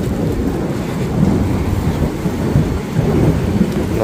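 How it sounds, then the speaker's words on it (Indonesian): Heavy rain pours in Makkah as a thunderstorm rolls through, with a dense, steady roar of rainfall, deep low rumbles of thunder and buffeting wind throughout. "Nah, ini turun hujan,"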